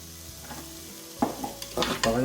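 Chorizo and onions browning in a Cookeo cooker, a close sizzle that swells with a few stirring scrapes and clatters as the onions are added, no talk.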